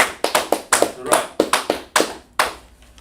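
Several hand claps in an irregular, sparse rhythm, sharp and close, with speech murmuring underneath during a classroom-style lesson.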